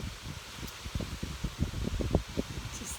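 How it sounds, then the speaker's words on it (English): Wind blowing outdoors buffets the microphone with a steady rushing hiss and irregular low thumping gusts for several seconds, with no voice heard. "Just letting the wind pass for a moment"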